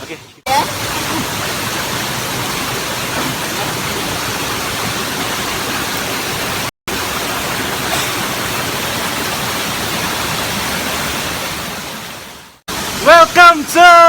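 Steady, loud rushing roar of the Langkuik Talago waterfall in Malalak Selatan, continuous and close, cut by a brief dropout midway and ending in a few seconds of other sounds.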